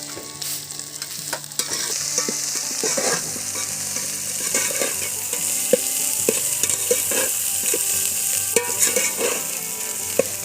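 Spices sizzle and fry in a pan with salt and turmeric powder, a steady close crackle broken by repeated stirring scrapes, with no talking, while a mutton curry with potato and apple is being cooked.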